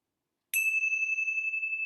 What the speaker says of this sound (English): I'm going to close our times with the ringing of the bell